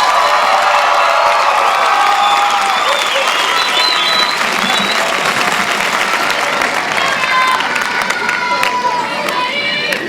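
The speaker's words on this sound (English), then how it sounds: "Let's give them all a big, hearty round of applause." Graduation crowd at a 2011 high school ceremony giving loud sustained applause, with cheering and whoops mixed into steady clapping across ten seconds.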